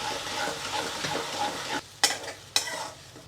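Loud, dense sizzling of garlic frying in hot oil for stuffed brinjal curry, then a sudden drop, followed by two sharp bursts of spattering as tomato puree goes in.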